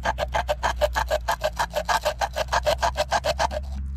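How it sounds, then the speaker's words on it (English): An emery board rubbed back and forth between the breaker points of an old 1950s Galion road grader engine, about twenty quick, even rasping strokes up close with a steady low hum underneath. "We're going to take your wife's emery board, jam it down between these points and sand them up here a little bit."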